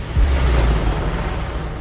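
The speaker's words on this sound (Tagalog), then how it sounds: "Nagngangalit doon ang lakas ng hangin at lakas din ng ulan." Strong typhoon wind and rain roaring in a short burst, a dense whooshing rush with low gusty rumble, loud and steady with no voices.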